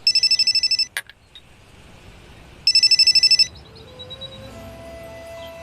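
A telephone rings in two bursts of rapid electronic trilling, loud and close, separated by a quieter pause with soft background music.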